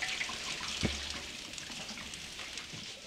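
Hot water runs steadily over quinoa being washed, making a continuous splashing rush with a brief knock partway through, heard close and fairly quiet.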